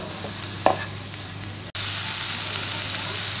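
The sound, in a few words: frying potato-chicken filling in a pan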